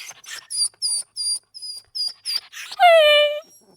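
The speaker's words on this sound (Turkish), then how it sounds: "İki kardeş ormanda keyifle dolaşırken bir ağlama sesi duymuşlar." A lost wolf pup cries in a forest, a series of short high whimpers followed by one longer wavering wail, close and clear against a quiet background.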